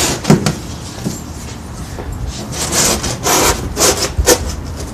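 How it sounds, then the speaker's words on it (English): A wooden box floor is dropped into a heavy-duty shipping box onto foam, giving a series of scraping, rubbing wooden knocks and thuds close by, with no talking. "I'm going to go ahead and drop it in on top of that foam"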